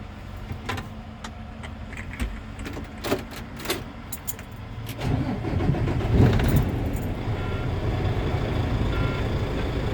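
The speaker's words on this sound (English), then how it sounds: "push my clutch in, start the engine, slowly release the clutch" A truck's diesel engine cranks and catches with the clutch pushed in, settling into a loud, steady low idle after a few seconds of clinks and rattles nearby.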